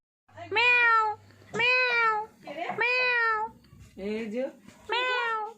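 A domestic cat meows five times in a row, each call drawn out and clear, close by, with short pauses between them and a faint low hum at the start.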